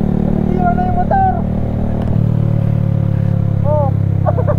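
Motorcycle engine idling loudly and close with a steady low rumble, while people shout and talk excitedly over it.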